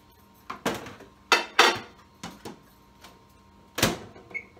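An old microwave's door is opened and shut and dishes clatter as it is started in a home kitchen, a series of sharp close clunks and clinks spread across a few seconds with quiet gaps between.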